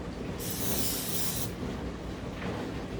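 A spray can sprays in one steady hiss of about a second into a cup, followed later by a fainter, shorter spray, set against low room noise while making a dessert in a cup.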